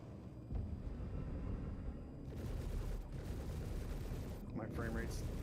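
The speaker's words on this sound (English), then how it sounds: "Got lock. Got him. Missile out." A missile launches at a locked target amid rumbling video game combat, steady booms and gunfire-like roar under a faint voice, with a brief sharper burst near the end.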